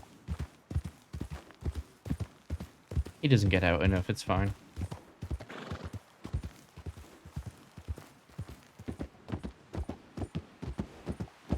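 Steady clip-clop of horse hooves trotting in the WildRP game world, with a brief whinny partway through, while someone talks casually over the rhythmic hoofbeats.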